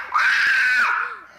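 A single loud, high-pitched scream rings out up close at home, holding steady for most of a second before dropping off, alone with no talk over it.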